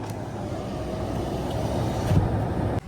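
A vehicle drives on an icy, snowy road in Sonmarg with a steady low engine and tyre rumble, moderately loud, ending abruptly.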